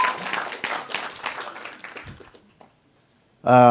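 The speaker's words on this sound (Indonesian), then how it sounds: "tepuk tangan buat Azira" A church congregation applauds a person being welcomed forward, with dense clapping that tapers off over about two and a half seconds, followed by quiet and then a loud sustained tone.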